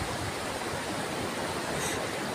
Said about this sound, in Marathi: हो बघा असं समुद्र